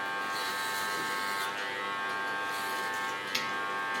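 Steady high electric hum of a hair clipper cutting a woman's hair, running continuously and close with a slight pitch shift partway through and a small click near the end.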